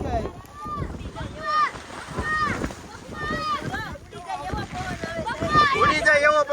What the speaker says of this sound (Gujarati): ઉડી જાય એવો પવન આવે છે ભાઈ